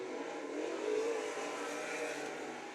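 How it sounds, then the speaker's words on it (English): 305 sprint cars roar around a dirt track during hot laps, engines droning loud and continuous with rising and falling revs, no talk over them. "305 sprint car"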